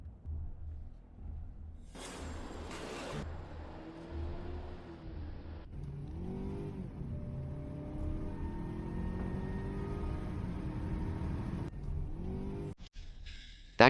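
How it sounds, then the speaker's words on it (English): A car accelerates with a rising, revving engine tone that builds in waves, fairly close and loud, broken by a short burst of noise early on. "That car was clearly aiming straight for Su Yutang."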